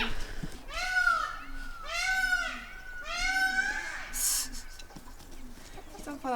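An angry turkey gobbles in three rapid, warbling bursts close by, each a rising-and-falling chatter, followed by a brief sharp squawk and softer farmyard noise.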